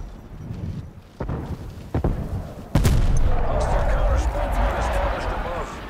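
Several sharp gunshots ring out in Call of Duty: Black Ops Cold War, a few spaced cracks and then a heavy blast, followed by a rumbling, crackling barrage; voices speak underneath.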